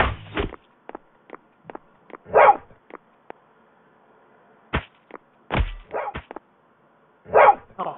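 A dog companion in a video game barking in short bursts, a handful of sharp barks and yips spaced irregularly with quiet gaps, alongside brief clicks and combat sound effects.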